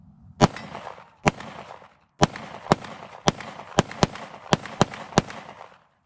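A Tisas 1911 Night Stalker 10mm pistol fires 155-grain full metal jacket .40 S&W rounds: about ten sharp, loud cracks in an uneven rapid string, each with a brief echoing tail.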